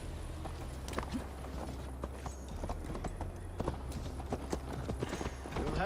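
Horse hooves clip-clop at a steady riding pace in Assassin's Creed Valhalla, with a continuous rhythmic beat of hoofbeats over low ambient background and no talking.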